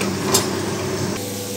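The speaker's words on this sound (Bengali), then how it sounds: "এটাকে আমি এবার 3 মিনিট মতো লো ফ্লেমে রেখে ভালো করে কষিয়ে নেব।" A spice paste for Bengali brinjal jhal cooks on low flame with a splash of water, a close steady sizzle and soft bubbling hiss with a single light stirring knock, no voices.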